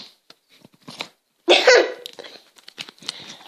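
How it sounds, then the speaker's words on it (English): A pink slime noise maker toy squelches out a loud, drawn-out farting noise, preceded by short soft squishes as it is pressed, with small wet pops trailing after. "It made such a big farting noise."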